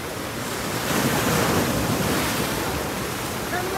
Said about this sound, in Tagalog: Kita niyo yung malakas na alon.